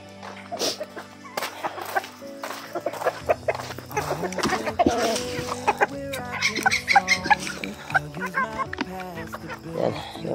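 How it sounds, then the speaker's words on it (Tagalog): White chickens cluck and squawk in a yard at close range, bursts of repeated calls in an uneven rhythm, with people talking now and then underneath. "Yan, yung mga puting manok"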